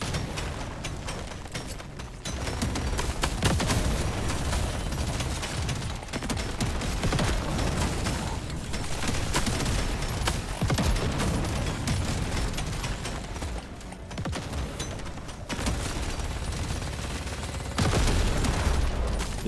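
In Deep Rock Galactic Survivor a soldier fires continuously, with dense rapid gunfire and blasts layered over game noise for the full stretch, loud and steady with brief dips.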